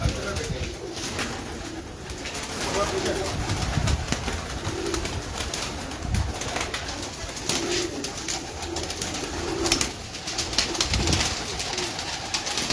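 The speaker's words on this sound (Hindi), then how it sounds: "ये देखो माशाल्लाह से सब बड़े बड़े पल्लों के कबूतर हैं सब।" Large-feathered pigeons cooing in a loft, soft repeated low coos over a steady background hum, with someone speaking intermittently.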